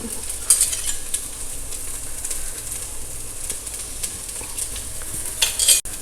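Arbi (taro root) fry roasts in a pot while a spoon stirs it now and then, giving a steady soft sizzle with occasional scraping clinks against the metal, close by.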